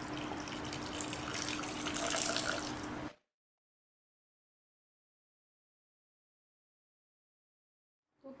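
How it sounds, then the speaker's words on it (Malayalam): Half a cup of hot water pours into mutton curry in a pressure cooker, a steady close splashing stream for about three seconds before the sound cuts to silence. "ഇതിലേക്ക് നമുക്ക് ഒരു 1/2 കപ്പ് നല്ല ചൂടുള്ള വെള്ളം ചേർത്ത് കൊടുക്കുക."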